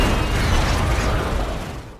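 Car explosion film effect as an engine is started: a loud, dense blast of broadband noise with rattling mechanical debris, sustained for about two seconds before fading slightly.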